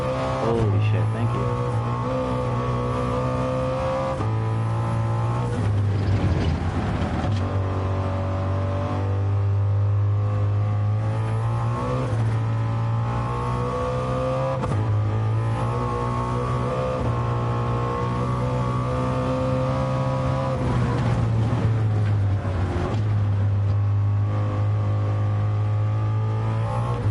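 A Ford Mustang engine in a driving video game drones steadily and loudly, its pitch climbing and dropping through several gear shifts over the whole stretch, with brief talk faintly underneath.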